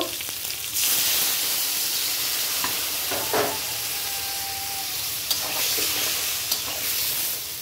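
Potatoes and eggplant fry in hot oil with cumin in a wok, a close, steady sizzle with occasional stirring scrapes and clinks throughout.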